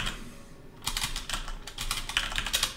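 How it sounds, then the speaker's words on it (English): Quick, light keystrokes tap out a name on a computer keyboard, arriving in short irregular bursts, close and clear with no talking. "we type in the name"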